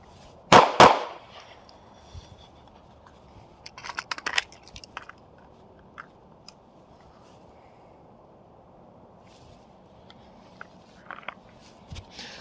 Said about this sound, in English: Then I would perform a tactical reload.